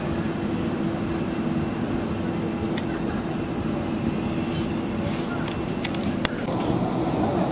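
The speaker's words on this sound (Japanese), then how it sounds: "まもなくこっちの方に飛行機が来ます" An airliner approaching at Narita Airport produces a steady, loud broadband roar that holds throughout, heard outdoors from the grounds of a pension in the middle of the airport.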